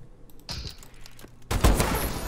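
A sniper rifle fires in the video game Call of Duty: Advanced Warfare, a single sharp, loud report with a booming tail, preceded by quieter game sounds and faint clicks.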